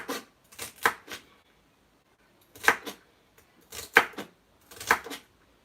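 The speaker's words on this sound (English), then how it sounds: "at the moment we are chopping up our vegetables to start ragu sauce, our beef sauce" Vegetables being chopped on a board for a beef ragu sauce, heard as close, crisp knife strikes in short clustered bursts separated by brief pauses, with no talking.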